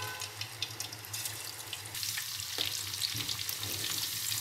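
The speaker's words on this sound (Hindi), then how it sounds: "एक कढ़ाई में ऑयल गरम करके चिकन को डीप फ्राई कर लें।" Chicken marinated for Chicken 65 deep frying in hot oil in a kadhai, giving a steady bubbling sizzle that swells louder partway through and stays close and continuous.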